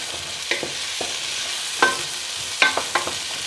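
Beef and its marinade are stirred in a pot for bœuf bourguignon while the spoon scrapes the browned bits off the bottom. A low steady sizzle runs throughout, broken by a few sharp scraping strokes.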